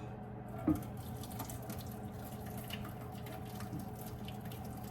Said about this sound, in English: So it drained a little bit, I'm gonna drain a little bit more.